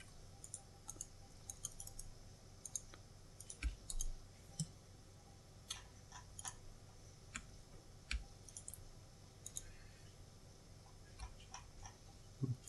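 Mouse clicks from someone playing modded multiplayer Kerbal Space Program: quiet, sharp, irregular clicks, some in quick pairs, scattered over a faint steady background with no talk.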